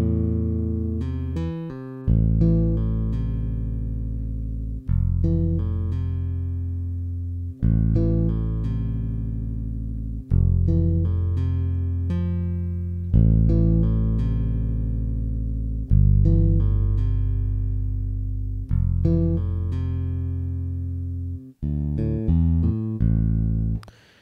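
Deep notes from the Ample Bass virtual four-string bass guitar plugin, played as a slow sequence of sustained low notes with clear attacks every couple of seconds, loud and close, with no voices over it.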